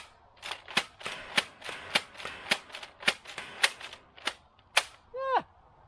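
Toy foam dart blasters slam fired in quick succession, about a dozen sharp, crisp pops in a steady rhythm, close and clear, ending with a brief rattling whir.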